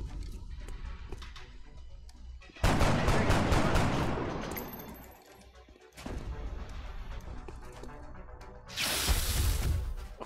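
Gunfire in the video game XCOM Long War comes as loud bursts of shots and crashing impacts in three separate volleys, with quieter gaps between them.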